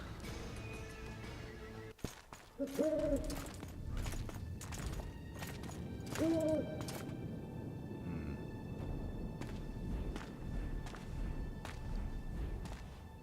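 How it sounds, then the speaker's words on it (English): An owl in The Witcher 2: Assassins of Kings gives two brief hoots a few seconds apart, set against a low game ambience with scattered thumps. "And who the fuck is that owl?"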